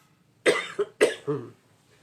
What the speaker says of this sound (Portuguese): Hoje eu estou tossindo um pouquinho